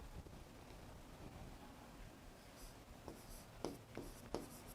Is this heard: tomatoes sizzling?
no